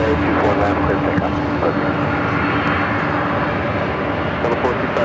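A 29-year-old Boeing 767-300ER jet taking off at LAX gives a steady, loud engine roar throughout, broadband and sustained, with no voices over it.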